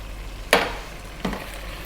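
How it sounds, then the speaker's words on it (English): Spice powder frying in an Ethiopian beef and potato stew (sega be dinach key wot), stirred in a pan, two sharp sizzling scrapes of the spoon over a steady low hiss, close and loud. "So stirring and stirring."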